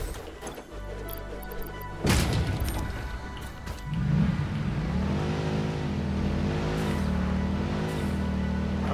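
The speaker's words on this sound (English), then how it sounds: "I like how the Explorer makes engine noises even when you've put batteries in it." A battery-powered Explorer vehicle in the game Satisfactory rumbles with a continuous engine drone that revs and rises in pitch, broken by a sharp crash-like thump, all at a moderate level over game ambience.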